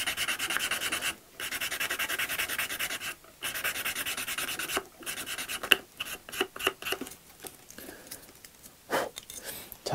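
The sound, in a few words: sanding model car seam putty with stick sandpaper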